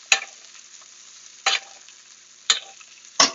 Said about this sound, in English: just hold it down here and you're going to bathe it with the butter